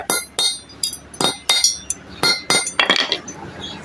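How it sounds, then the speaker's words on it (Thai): A hammer strikes the metal links of a motorcycle anti-slip chain about a dozen times in an uneven rhythm, each blow a sharp, close, bright metallic clink. "แล้วเราก็ตอกให้สนิทนะครับตอกเข้าไป"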